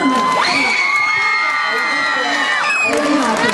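Loud cheering, whooping and clapping from a nighttime outdoor concert crowd at a show, a close, dense roar of many voices with shouts rising above it.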